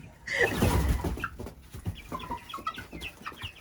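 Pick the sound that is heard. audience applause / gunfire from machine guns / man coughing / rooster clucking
rooster clucking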